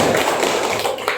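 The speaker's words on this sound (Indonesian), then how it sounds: "kasih tepuk tangan" Classroom applause for a student's correct answer, a short close burst of clapping from a group, loud and dense, fading briefly near the end.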